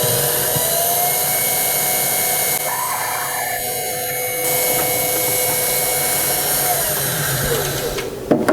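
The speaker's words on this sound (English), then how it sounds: "I'm using a number 9 clearance drill for a 1032 bolt" A number 9 clearance drill bores a hole for a 10-32 bolt while making a bike pannier strut, a loud, steady whirring drone that holds unbroken for several seconds and ends in a brief clatter.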